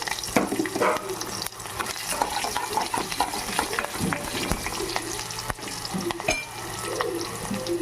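Onion pieces sizzle and crackle in plenty of oil for gongura pachadi, a busy close frying hiss broken by occasional stirring clinks and scrapes.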